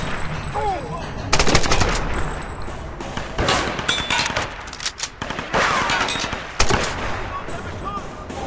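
Intense automatic gunfire in Tomb Raider (2013), with rapid machine-gun bursts and sharp single shots, some clinking impacts, loud and near, alternating with brief pauses.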